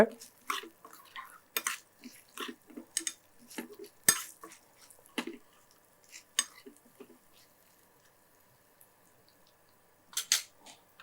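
Moringa-leaf pongal ingredients are stirred and roasted in a pan over a low flame, giving intermittent scraping and light metallic clinks of a spoon against the pan, with short pauses between strokes.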